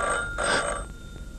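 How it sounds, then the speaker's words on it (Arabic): Telephone ringing indoors in an Arabic crime drama, a single bright electronic ring burst followed by its fading tail, heard alone without voices. "التليفون"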